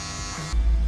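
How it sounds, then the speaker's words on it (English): A cordless lithium-ion electric hair clipper buzzing at close range, with a steady high hum that shifts to a deeper, louder drone partway through, short and without speech. "all we have to do with this right in here is just a little clipper over comb"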